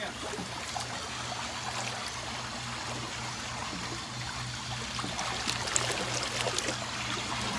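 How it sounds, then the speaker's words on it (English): Water churns steadily in a Master Spas swim spa, a continuous close wash and trickle with a faint low hum beneath, even throughout. "So you can see that water is moving."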